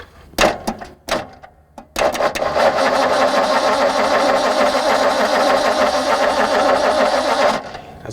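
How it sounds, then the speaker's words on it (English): A 1964 Ford Galaxie with a big block V8 and four-speed, long left sitting in a junkyard, cranks on the starter: a few short bursts and clunks, then several seconds of steady, loud, close cranking before it cuts off. "we're about to just crank this engine that's been sitting for who knows how long"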